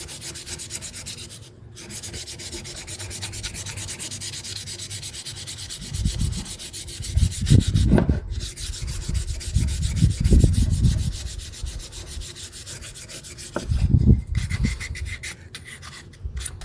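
Rhythmic scratchy strokes of sandpaper rubbing on wood, close up, swelling in bursts of repeated back-and-forth passes over a low steady hum.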